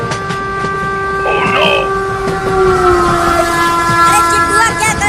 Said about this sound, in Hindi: लगता है अब दोनों ट्रेन की टक्कर होकर रहेगी